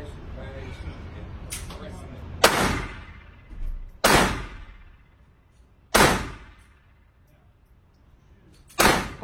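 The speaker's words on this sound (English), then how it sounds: "I went to the gun range with Papa and I actually shot a gun." Gunshots at a gun range, four sharp, loud single cracks spaced a couple of seconds apart, each followed by a short echoing decay, with quieter handling noise between them.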